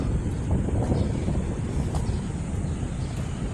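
Steady wind buffets the microphone outdoors in a city street area, a constant low roaring rumble with no speech, near and fairly loud throughout.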